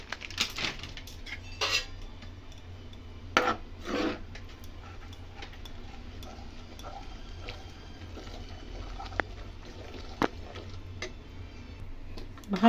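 Ghee and powdered milk being stirred together in a pan for homemade milk-powder sandesh, soft continuous scraping and rubbing with a few sharper metallic clinks of a spoon against the pan, fairly quiet with no talking.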